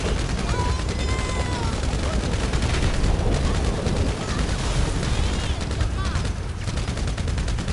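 Dense, continuous rifle gunfire from GTA Online compact rifles, rapid overlapping bursts layered with explosions and game effects, loud and sustained throughout with faint voices mixed in.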